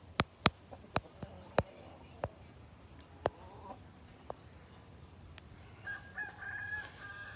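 A rooster crows in a short, fairly quiet call after a series of sharp knocks and taps close to the microphone, with faint background ambience.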